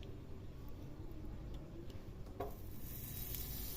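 Butter sizzles softly in a pan while paneer tikka is cooked, a steady quiet crackle with a few faint ticks and stirs and no talking.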